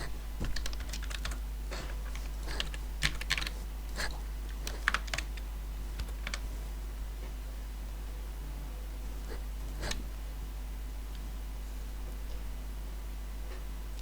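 Typing on a computer keyboard while entering medical facility details into eHealth software, with quick bursts of clicky keystrokes at first, then scattered isolated taps over a steady low electrical hum.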